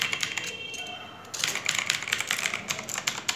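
Close, clattering keystrokes on a TVS Gold black USB computer keyboard, briefly pausing before a quicker burst of typing resumes, with a voice speaking over part of it.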